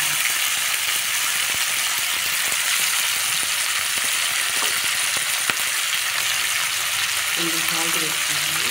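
Tomatoes frying with onions in a pan for a vankaya and tomato curry: a steady, loud sizzle runs throughout, with occasional spoon clinks and stirring rattles, and a few faint tonal sounds near the end.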